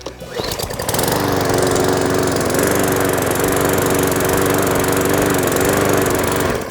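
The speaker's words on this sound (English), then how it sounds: "then we just pull the recoil, and it should start" A petrol lawn mower catches after a pull of the recoil starter and settles into a loud, steady running drone close by.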